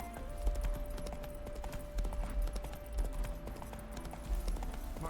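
Horse hooves clip-clop in a steady trotting rhythm while riding in the video game Witcher 3, a close, continuous patter with a faint steady tone underneath and no talk.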